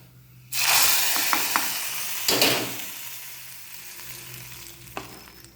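Mustard seeds and curry leaves dropped into hot oil to temper sambar, bursting into a sudden loud sizzle with crackles that slowly fades into a steady hiss, with no talking.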